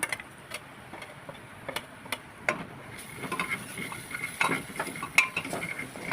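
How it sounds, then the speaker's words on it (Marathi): Bitter gourd being stirred in oil with red chili masala, a soft sizzle under repeated scraping and clinking strokes of a utensil against the pan, close and moderately loud. "छानपैकी तेलामध्ये परतून घ्यायचं आता यामध्ये घालते लाल तिखट मसाला"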